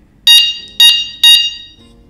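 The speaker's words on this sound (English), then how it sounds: "The bell, well, that's this crazy beep." Three sharp, loud electronic beeps from the bell of a Fiido D2s folding e-bike, evenly spaced and piercing, each cutting off quickly with a short fading tail.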